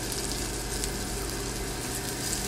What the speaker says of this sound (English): So you can hear that chicken sizzling.